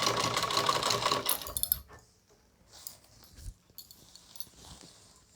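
A sewing machine stitches cancan net onto a gown, running in a fast rattling burst for under two seconds before stopping, followed by soft scattered handling clicks and taps.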